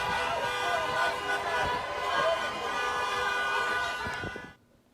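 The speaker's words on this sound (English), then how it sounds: "at the end when everyone's blowing their horns" Car horns blare together in a sustained, overlapping chorus of honking at a COVID-era drive-in grand final encore, steady and moderately distant, with voices mixed in, then cutting off abruptly near the end.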